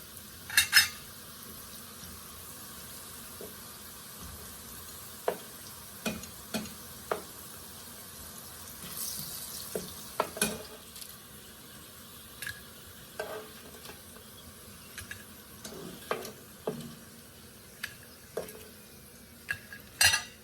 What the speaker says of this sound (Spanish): vamos a poner a dorar nuestra tortilla